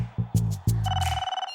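A telephone rings with a warbling electronic trill of quick repeated pulses lasting about half a second, preceded by a few short low buzzy tones; no one speaks.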